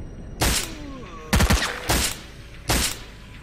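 Gunfire in the video game STALKER: Call of Pripyat comes as four loud, sharp bursts of shots spaced unevenly over a few seconds, one of them a quick rapid-fire cluster, with quieter game ambience and faint voice-like sounds between them.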